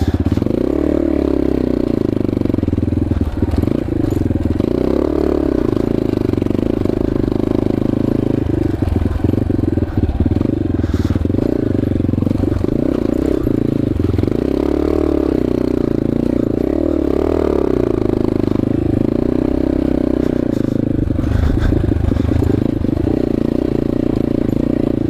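Yamaha XT250 enduro motorcycle riding off-road on Moab, Utah terrain, its single-cylinder engine droning loud and close throughout with steady throttle surges, plus rattling and scraping from the rough ground.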